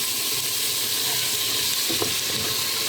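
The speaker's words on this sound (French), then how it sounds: "Là, ça commence à rissoler, les oignons commencent à blondir, hein, à roussir légèrement." Onions and tomato fry in a pot at the start of a fish soup, a dense, steady sizzle with faint stirring scrapes and one brief clink near the end.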